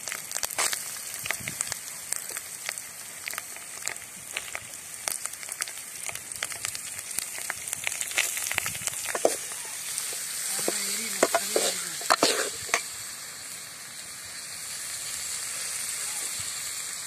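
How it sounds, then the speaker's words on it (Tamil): Onions frying in a pan for a spicy fish curry, a steady crackling sizzle with frequent spatula scrapes and stirs, fairly close, no talk. "வெங்காயம் போட்டுக்கலாம்"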